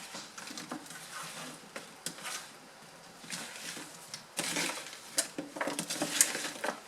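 Beef stew ingredients with olive oil and black pepper being stirred and tossed in a pot, with bell peppers, potatoes, carrots, mushrooms and onion chunks; soft, steady scraping and clinking that grows louder and busier toward the end, no talking.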